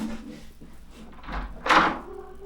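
A house door opens to let a cat in, giving a soft thunk and then a louder rush of movement near the end. Indoor room sound fills the background.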